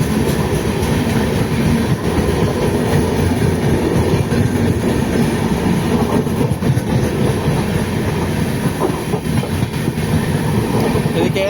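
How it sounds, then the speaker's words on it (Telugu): The New Delhi–KSR Bengaluru Karnataka Express passenger train passes nearby, a steady loud rumble of wheels and carriages with rhythmic clatter throughout. "new Delhi KSR Bengaluru Karnataka express అండి"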